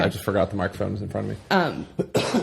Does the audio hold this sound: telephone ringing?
no